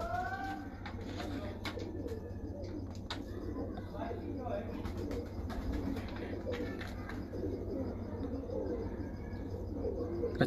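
Pigeons in a breeder's loft coo softly in the background amid a low steady hum, with a person talking over them.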